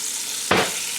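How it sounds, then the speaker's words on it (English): Butter and pepper oil go into a hot pan, and a sudden close, loud sizzle bursts in about halfway through and holds steady to the end. "now we're going to add to our hot pan here a little bit of pepper oil"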